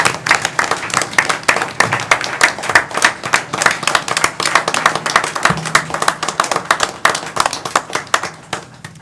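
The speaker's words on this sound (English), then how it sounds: "Let's give Mary a round of applause." A city council audience in San Angelo gives a round of applause after a proclamation: loud, close, sharply rhythmic clapping from a modest group that continues steadily for about nine seconds, with faint murmuring underneath.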